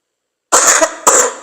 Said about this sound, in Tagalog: Sorry gida, ang ubo ko niya